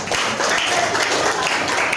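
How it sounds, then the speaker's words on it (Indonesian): A classroom of junior high students applauds a student group after its presentation, steady clapping at moderate loudness filling the full two seconds with faint voices mixed in. "tepuk tangan dulu untuk kelompoknya Juli ya"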